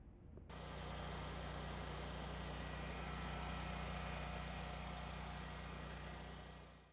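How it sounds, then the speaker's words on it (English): A Generac Guardian residential home standby generator engine starts with an abrupt onset, then runs at a steady, even hum with constant loudness for several seconds, with no talk. "let's start that generator"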